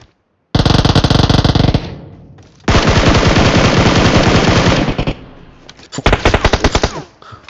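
Rapid automatic gunfire in the PUBG Mobile shooter game, several long loud bursts of rattling shots separated by brief pauses, very close and dominant, with no talking over it.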